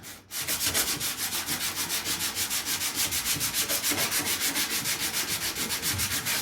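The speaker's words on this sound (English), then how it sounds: "Let's just see what it roughs up like with a bit of 40 grit." Rapid back-and-forth sanding with coarse 40 grit paper on the front valance of an Austin A30/A35 during restoration, a steady rhythmic scratching of about four strokes per second, loud and close, running throughout with no talk.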